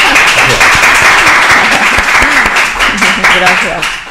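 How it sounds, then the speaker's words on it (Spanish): Loud, dense audience applause for Iris, a continuous wash of many clapping hands close by that holds steady and eases slightly near the end. "Un aplauso para Iris."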